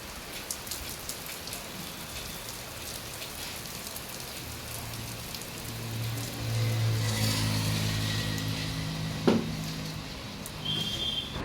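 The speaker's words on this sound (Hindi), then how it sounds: "देखिए बढ़िया वाली बारिश हो रही है" Heavy rain falls steadily in a village, with dense close patter on surfaces. It grows a little louder partway through, and a hum and one brief knock come near the end.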